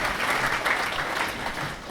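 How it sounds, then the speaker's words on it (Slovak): Applause for village award winners at a Slovak ceremony: a short, dense burst of clapping from a large indoor audience, steady and fairly loud throughout. "gratulujeme ešte jeden potlesk"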